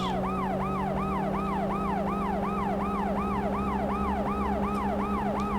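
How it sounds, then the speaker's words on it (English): A video game police car siren sweeps up and down in steady, rapid cycles, loud and continuous, with a low engine drone underneath. "I would turn the sirens off"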